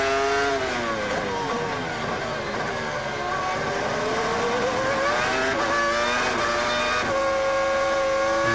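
A Formula One car lapping at the 2002 Australian Grand Prix in Albert Park, its high-pitched engine screaming loud and near, with rising and falling revs through gear changes across the lap.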